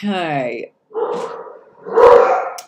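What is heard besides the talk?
dogs barking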